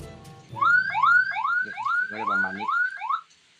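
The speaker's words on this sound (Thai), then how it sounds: "นี่ก็จะเป็นเสียง เป็นเสียงหวอของตำรวจนะครับ" Police-style siren from an Indonesian-style youth car's horn system, a rapid rising whoop repeated about seven times in quick succession, loud and close, following a brief spoken phrase at the start.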